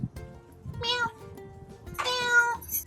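A cat meows twice in close succession, two clear nearby calls about a second apart, with faint murmuring speech in the background.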